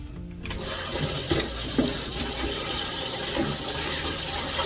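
Lamb's quarters greens are rinsed under steadily running water, a continuous close splashing and gushing stream from a tap with faint handling sounds, no speech.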